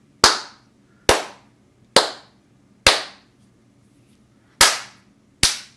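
Six sharp single hand claps sound close beside a sound-activated M4 adapter, each a crisp isolated crack with a quick decay, spaced roughly a second apart with a longer pause before the last two, in an otherwise quiet room.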